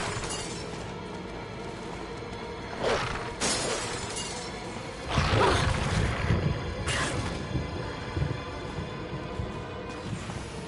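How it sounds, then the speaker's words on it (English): Glass cracks and shatters in the Resident Evil game, with several sharp breaking bursts over a constant noisy background, the loudest crash in the middle. "if you heard the crack of glass at the very beginning of the game"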